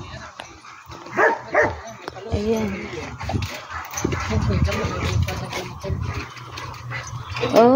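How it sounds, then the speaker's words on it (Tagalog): A dog on a farm barks and yips in short bursts, with a brief whimper, close by and mixed in with people talking. "May aso sila."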